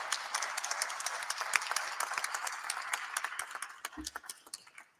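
Audience applause at a community health and wellness clinic event held in a church fellowship setting, a steady crowd clapping that runs for several seconds and thins out toward the end, with some voices mixed in.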